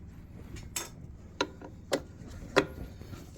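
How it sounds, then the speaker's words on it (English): Screws being removed from a Dewalt DW735 benchtop planer, a few faint, sharp metallic clicks and clinks spaced apart over a quiet shop background. "We're going to take out all these screws."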